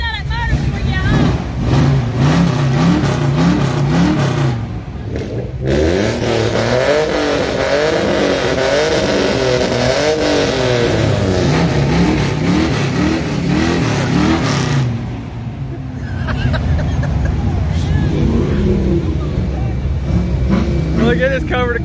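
Chevrolet Camaro engine revving loudly and continuously at a night rod run on the strip, with a brief dip partway through and people shouting over the roar.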